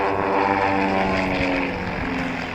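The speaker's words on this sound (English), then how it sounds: "Pulling up into a loop to start their display, Richard Grace, the formation leader, joined" Pitts Special aerobatic aircraft pull up into a loop in a formation display at an airshow, their propeller engines droning loudly and steadily, easing off slightly toward the end.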